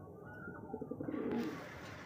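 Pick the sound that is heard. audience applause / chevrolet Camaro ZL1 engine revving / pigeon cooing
pigeon cooing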